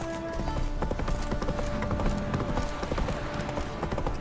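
Horse hooves clip-clop at a steady walking rhythm, fairly close, over a soft background hum, in the video game The Witcher III: Wild Hunt.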